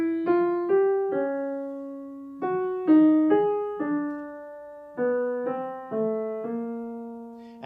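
Single piano notes sound one after another in a slow, disjointed twelve-tone row from Schoenberg's Suite for Piano op. 25, each ringing and decaying before the next, played alone.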